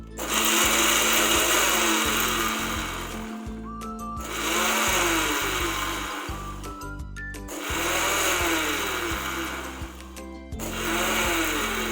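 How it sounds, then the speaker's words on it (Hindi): Almonds being ground in an electric grinder, run in short pulses rather than continuously: three or four loud whirring bursts separated by brief stops, the motor's pitch shifting as the nuts break down. "बादाम भी हम मुसलसल ग्राइंड नहीं करेंगे, तो ये अगर मुसलसल करें तो फिर वो पाउडर की बजाय पेस्ट बन जाएगा।"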